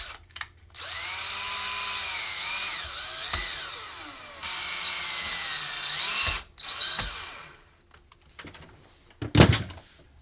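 A power drill with a screwdriver bit whirs in several bursts, its pitch rising and falling as it drives screws while installing a deadbolt on a steel door, with short pauses and a clatter near the end.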